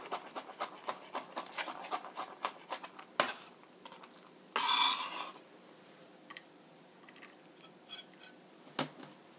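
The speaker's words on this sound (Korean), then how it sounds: "갈릭, 마늘 두 쪽도 얇게 슬라이스해서 다져 주시고요" A knife thinly slicing and then mincing two garlic cloves on a board, a quick run of light, rhythmic taps followed by a brief scraping burst and a few scattered chops, close and quiet.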